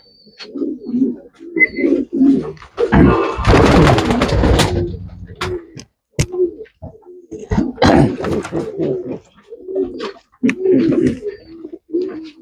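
Homer pigeons coo repeatedly in soft, low bursts close by, with people talking over and between the calls and a louder noisy stretch partway through.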